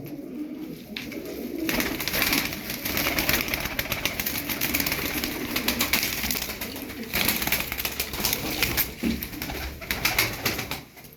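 Pigeons from a flock of thirteen performing-breed birds coo in steady overlapping calls throughout, close and fairly loud, with a few rustles and wing sounds mixed in and no talking.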